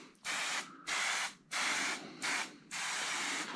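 Primer filler is sprayed onto a BSA A10 plunger motorcycle frame during frame prep, heard as five close, loud hissing bursts from a spray can or gun with short gaps between them, the last burst running longest.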